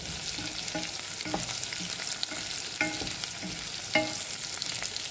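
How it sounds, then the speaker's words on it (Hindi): Okra fries in a pan, a steady close crackling sizzle broken by small irregular pops and occasional stirring scrapes, with no voices. "भिंडी हमने इसमें फ्राई कर लेंगे। ये फ्राई होने लगते हैं"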